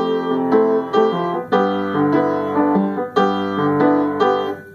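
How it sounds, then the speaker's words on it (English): Bossa nova accompaniment in a dotted quarter-eighth rhythm, sustained chords repeating in a steady syncopated pattern with a bass line underneath, clear and close with no voices. "That sound is your bossa nova"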